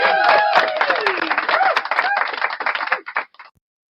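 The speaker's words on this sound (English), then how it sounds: "Round of applause" A small group claps and cheers on a live stream, the applause loud at first with a few shouted voices, then thinning to scattered claps before stopping abruptly.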